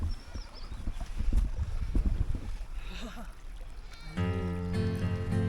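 A lone goat near Kareri Lake bleats loudly and nearby with a long wavering cry near the end, following a stretch of rough noise, knocking and splashing in cold water.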